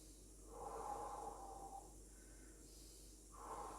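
Slow, heavy breaths drawn in and pushed out during a power yoga workout, two long airy exhalations close to the microphone with a quieter pause between them and no talking.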